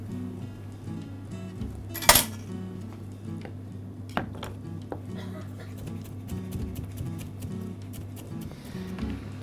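Herbs are finely chopped with a knife in a kitchen, with light irregular taps and one sharp clatter early on, under a steady low hum and a speaking voice.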